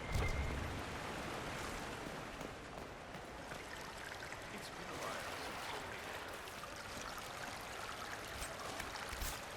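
In Dragon Age: Inquisition (Trespasser), water pours over a character in a steady, rushing splash that runs for nearly ten seconds at an even, moderate level.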